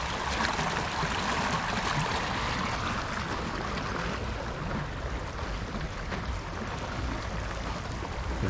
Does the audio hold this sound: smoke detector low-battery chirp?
no